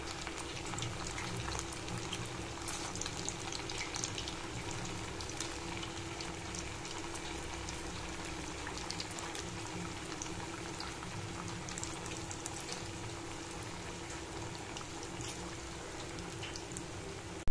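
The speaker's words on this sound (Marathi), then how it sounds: "तर आता मस्त असे ब्राऊन होईपर्यंत आपण हे तळून घेणार आहोत." Food frying gently in oil over low heat, a steady soft hiss and fine bubbling that holds evenly throughout with no talking.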